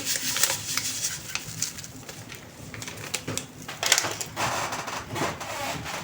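Sugar being stirred into a risen yeast sponge with salt and vanilla sugar for Easter paska bread, a close, gritty scraping and crunching with irregular strokes and brief sharper scrapes, no talk.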